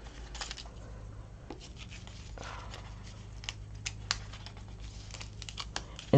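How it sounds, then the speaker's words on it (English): Release paper peeled off adhesive foil for a stained glass foil technique, a soft continuous crinkling and tearing with scattered sharper crackles over a low hum, close and fairly quiet. "now we're going to take the release paper off"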